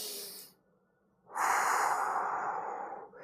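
Slow exercise breathing, one exhale that fades into a short pause and then a long, audible breath drawn in close to the microphone, unhurried and alone.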